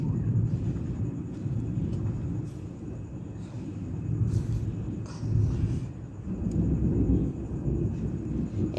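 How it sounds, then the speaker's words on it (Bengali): Heavy rain during a thunderstorm with strong lightning, a loud, deep rolling rumble swelling and easing over a constant rain hiss, heard indoors from a home kitchen. "ভীষণ বিদ্যুৎ চমকাচ্ছে, আমাদের এখানে হেভি বৃষ্টি হচ্ছে"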